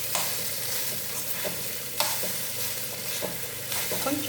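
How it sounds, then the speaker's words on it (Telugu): Cooked rice tipped into a pan and stirred, a steady close scraping and shuffling with soft sizzling underneath and a few sharper clinks of the spoon against the pan. "ఈ అన్నం ఇందులో వేసుకుంటున్నాను."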